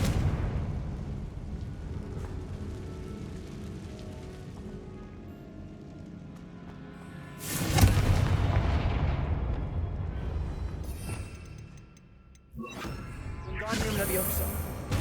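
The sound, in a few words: Confringo fire-blast spell explosion from video game Hogwarts Legacy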